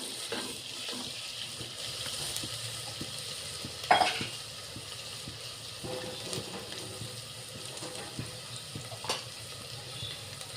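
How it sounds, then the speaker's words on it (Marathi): Ginger garlic paste fries and is stirred in a pan for veg pulao, giving a soft, steady sizzle with faint scraping and an occasional louder clink of the spoon against the pan. "आता इथे मी अद्रक लसूणचा पेस्ट टाकत आहे."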